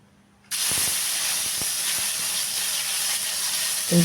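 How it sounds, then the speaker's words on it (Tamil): A spoonful of ginger garlic paste drops into hot oil for fried rice and erupts in a loud, sudden sizzle that keeps hissing steadily close by, with a few light clinks and spatters. "எண்ணெய் நல்லா சூடாக இருக்குது அதனால் போட்ட உடனே செவந்து வந்துரு வருது"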